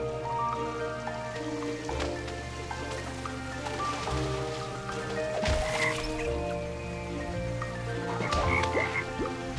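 Frogs croak steadily in the platform game Toki Tori 2, layered over a continuous tonal game soundscape with occasional drips and squishy splashes, fairly loud throughout with no voices.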